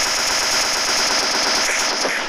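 Rapid automatic M762 rifle fire in PUBG Mobile, a continuous loud burst of closely spaced shots lasting a couple of seconds without speech.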